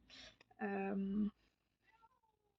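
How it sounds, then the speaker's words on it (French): A house cat meows loudly and close in one long, drawn-out call, with a brief sharper cry before it and faint sounds trailing after, heard indoors with no talk over it. "le chat que vous entendez"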